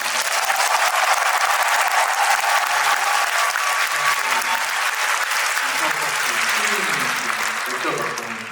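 A concert audience in Daejeon applauds the behind-the-scenes crew of a touring show, dense sustained clapping filling the hall throughout, with voices rising beneath it toward the end as the ovation begins to thin.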